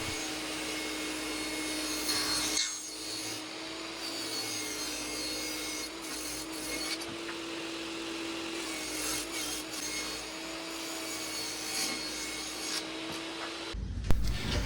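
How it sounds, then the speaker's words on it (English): A power saw rips a cedar board lengthwise, a steady loud whine with a constant hum running nearly throughout, briefly dipping once before cutting off at the end. "I'll rip one board and get 2 pieces out of it."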